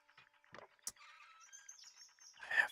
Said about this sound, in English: We have bird song.